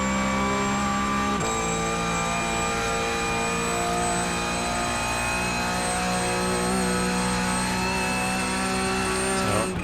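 A Porsche Cup race car's engine pulls hard under full throttle in a racing video game. The loud, steady, high-pitched engine whine climbs through the revs with layered harmonic tones and has a brief shift-like break early on.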